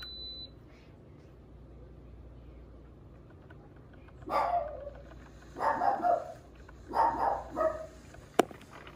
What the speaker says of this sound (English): I'm gonna go see what she's barking at again.